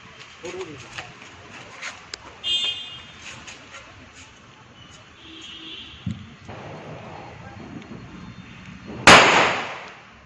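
Diwali firecrackers going off, with scattered pops, a faint whistling crackle and one sharp loud bang near the end, mixed with background voices and ambient noise.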